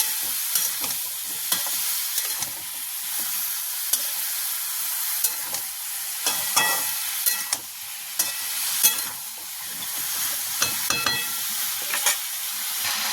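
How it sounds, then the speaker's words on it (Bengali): Chola dal sautéed on high flame sizzles loudly and continuously, punctuated by frequent sharp clacks and scrapes of a spoon stirring against the pan. "গ্যাসের ফ্লেমটা কিন্তু হাই থাকবে এই টাইমে, একদমই লো করা চলবে না। এটাকে এইভাবে একটু কষিয়ে নিতে হবে।"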